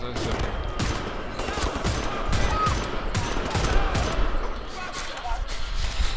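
Gunfire in Wolfenstein: The New Order comes as a dense, steady barrage of close, loud shots and thuds. Someone talks over part of it.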